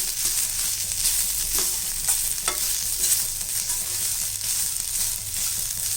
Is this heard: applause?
no